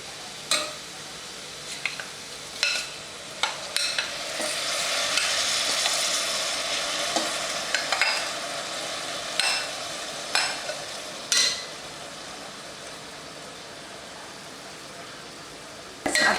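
Washed rice is sautéed in a pan with a continuous soft sizzle, punctuated by a dozen or so sharp clicks and scrapes of a spoon stirring against the metal, close and unaccompanied by talk.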